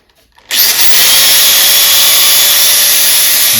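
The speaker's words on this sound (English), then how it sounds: "I'll use my angle drill" An angle drill sanding a piece of yew wood starts abruptly after a brief quiet moment, then runs loud and steady with a high whine and constant abrasive rubbing close to the microphone.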